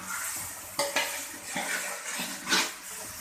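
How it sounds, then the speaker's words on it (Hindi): Ingredients for aloo pulao with eggs, including chilli and salt, being stirred and fried in a pot, with a steady sizzle broken by several louder scraping clatters of the spoon against the pot, close up and with no talking. "दो मिनट अच्छी तरह भूनूंगी।"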